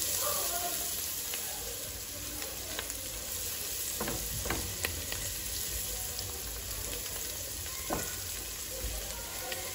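Mutton curry base with turmeric fries in a pot with a steady soft sizzle throughout, a few stirring scrapes and spoon knocks rising over it, fairly quiet and close.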